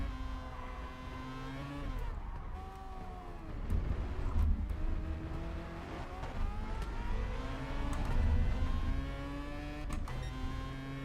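Race car engines in GT Sport at Interlagos whine and rev through the gears, pitch rising and dropping as cars accelerate, a steady buzzing drone throughout.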